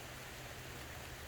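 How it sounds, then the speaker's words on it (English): Rain falling on a new garden plot in June, a steady hiss of drops with low rumble beneath, faint and unbroken for a brief moment. "Finally getting some rain."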